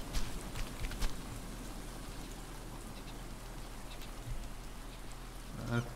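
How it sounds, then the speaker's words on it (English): Steady rain falls in the Stranded Deep survival game, a soft even patter of drops on surfaces lasting throughout, with a few louder taps mixed in. "I think the rain is going to stop."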